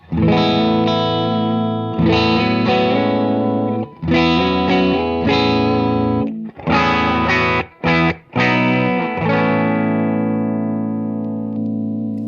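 Electric guitar with moderate overdrive plays sustained chords and notes, with a few short stabs and pauses, loud and up front.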